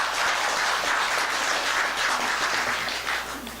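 An audience at a Buddhist Avatamsaka Sutra lecture claps steadily for a few seconds, a dense, moderately loud wash of applause that fades slightly at the end, with no voices over it.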